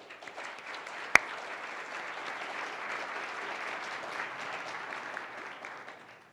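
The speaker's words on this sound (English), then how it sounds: "Please join me in a warm round of applause for all of them." An audience at a civic forum luncheon in Portland gives a steady, warm round of applause that continues evenly for several seconds, with one sharp click near the start.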